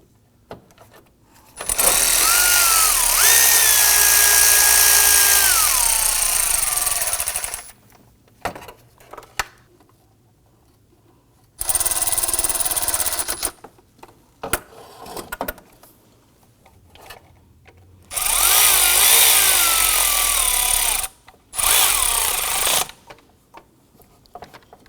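Bolts being snugged down with a power tool on the intake of a 2008-2011 Ford Focus 2.0L four-cylinder engine: three bursts of loud, whirring ratcheting, each lasting a few seconds and separated by quiet gaps with faint clicks.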